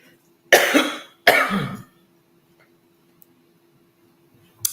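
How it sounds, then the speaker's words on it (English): Two close, harsh coughs come in quick succession from a person indoors, followed by near silence, a faint tick, and a brief burst of noise at the end. "Cough."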